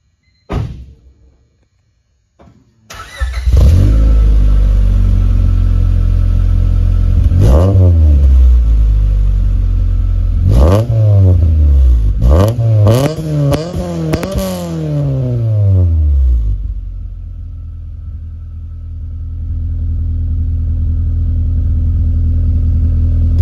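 2000 Honda Civic Si with a header-only exhaust, revved hard several times from idle. Each rev is loud and close, rising sharply and falling back, then the engine settles into a steady, rumbling idle with no talking.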